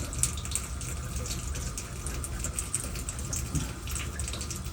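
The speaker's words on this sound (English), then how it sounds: "Is the water going down?" Water draining from a newly installed 60 by 30 inch Americast bathtub, a steady gurgling, rushing wash of water, fairly close and continuous for a few seconds.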